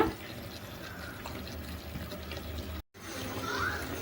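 Water pours into a pot of cooking mutton curry with a steady, even rush of splashing and hiss that continues for several seconds at moderate volume, with a brief break near the end.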